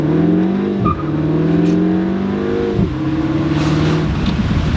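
A Mini Cooper engine revs hard under acceleration, its pitch climbing through two gear changes with brief dips between. The sound is loud and close from inside the car, with no talking.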